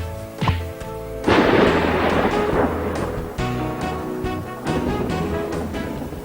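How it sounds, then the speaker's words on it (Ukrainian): Deep rumbling thunder rolls and crackles in waves, loud and close, with a low booming onset and lingering roar. "О, ні, гроза."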